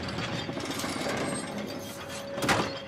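A chandelier being raised by a ratcheting mechanism in the video game Uncharted 4, set among the thieves of Libertalia: a steady clicking, grinding gear rattle runs throughout with a louder clatter near the end, and no talk.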